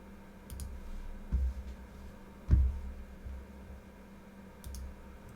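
A computer mouse clicks while tracing shapes in drawing software for laser cutting: two or three soft, close clicks spaced over several seconds, alone against a quiet room hum.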